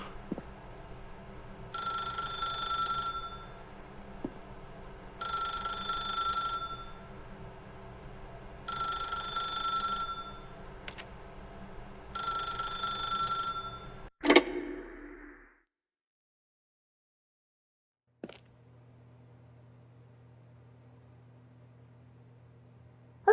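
Electronic telephone ringing in the video game The Stanley Parable: Ultra Deluxe, four evenly spaced ring bursts, clear and close, then a clunk as the receiver is picked up, followed by near silence and a low hum.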